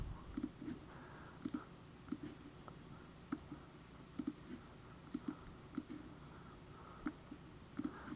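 A computer mouse clicks while items are placed in electrical layout software: sharp, quiet single and double clicks at an irregular pace over faint room hiss, with no one talking.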